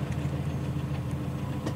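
Toy truck from a children's read-aloud picture book driving off, heard as a steady low engine-like hum that carries on evenly for a couple of seconds with no talking.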